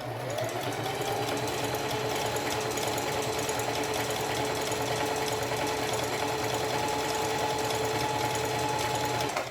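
A foot-pedal sewing machine stitches a shirt with a steady, rapid mechanical whir and needle clatter, running loud and close without a break.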